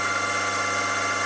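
Steady whine of a drill spinning at 1600 rpm with a 3 mm bit in the chuck, set over a steel strip clamped in a vise; continuous and fairly close, with no voices.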